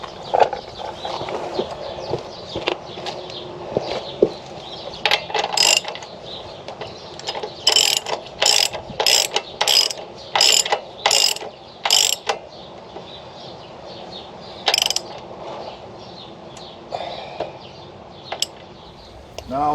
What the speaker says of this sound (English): So the next step now is to retighten the nut.